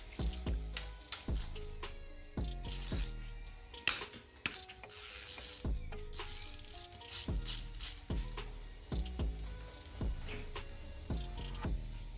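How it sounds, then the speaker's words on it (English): A ratchet wrench loosens the single nuts on the timing belt idler pulleys of a 1990-1996 Nissan during a timing belt service, giving close, irregular bursts of sharp clicking with short pauses and no talk. "we're replacing these belt idler pulleys as well. So they're coming off, they're just 1 nut each."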